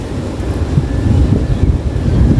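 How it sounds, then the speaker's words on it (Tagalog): Strong wind buffets the microphone with a constant, loud low rumble and gusty roar throughout. "Super windy na."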